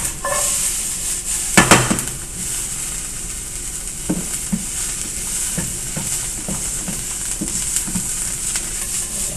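Veggie omelet onions sizzling steadily in a frying pan as they brown, with a loud clatter of utensil on the pan near the start and soft scraping stirs and taps throughout.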